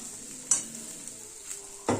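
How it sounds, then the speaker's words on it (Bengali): Lentil vadi (dal bori) frying in a pan and being stirred: a steady sizzle under a few sharp scraping clatters of stirring, close and fairly quiet, with no talk. "এই ডালের বড়িগুলো দিয়ে দেবো"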